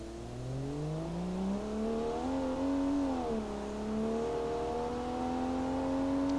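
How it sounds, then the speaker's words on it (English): A car engine modeled on the Atlas LL8 revs in BeamNG.Drive. Its droning, harmonic tone climbs, dips briefly, then holds at a steady raised pitch, clear and close, with no voices. "I actually modeled the engine as best I could off the Atlas LL8."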